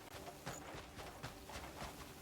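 Horse hooves clip-clop in the video game Crimson Desert, a quick, faint run of repeated thuds in an irregular galloping rhythm, heard alone without talk.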